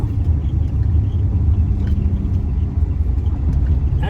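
An LS-swapped car with a six-speed gearbox cruises in third gear at low speed, its engine a loud, steady low rumble heard from inside the cabin.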